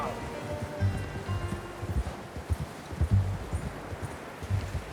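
Horse hooves clip-clop in Red Dead Redemption 2, soft uneven hoofbeats plodding along under a muffled outdoor ambience, moderately close, with low murmuring voices mixed in.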